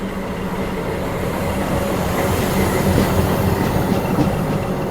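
WDS6 diesel shunting locomotive moving with the Karaikal Express in Chennai, a continuous close rumble of rolling rail cars with faint wheel clatter and no talk.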